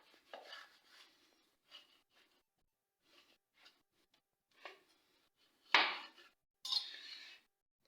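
A knife cuts through a cooked mooli paratha on a plate, making a few sparse, faint scrapes and clinks with quiet gaps between them.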